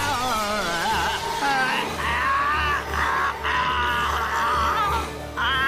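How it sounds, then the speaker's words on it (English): A voice actor in an English fan dub of Umineko lets out sustained, strained cries of pain, wavering and continuous over steady background music. "Balor's VA can't scream in pain very well"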